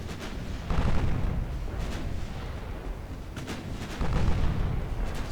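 Heavy naval guns fire high-explosive shells in the warship game Ultimate Admiral Dreadnoughts, with 9-inch and 8-inch batteries at about 6 km. Two loud, rumbling booms roll out several seconds apart over a steady low background, with no talking.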